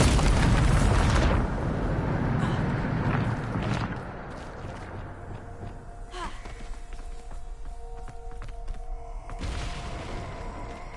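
A Bombarda spell explosion in the video game Hogwarts Legacy: a loud, booming burst opens the clip and rumbles away over a few seconds. A second, softer surge comes near the end over low game ambience.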